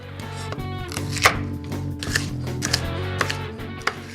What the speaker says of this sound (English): Chop up any other veggies you might like.